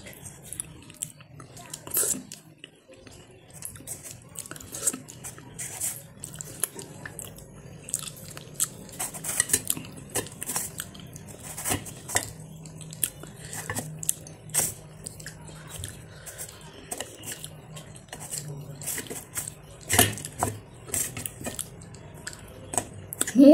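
A person chewing and biting through a home-cooked Bengali meal with posto, close and intimate, with soft wet mouth sounds and occasional crunches repeating irregularly, with low background hum throughout.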